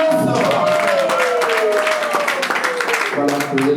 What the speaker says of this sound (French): On applaudit l'alliance.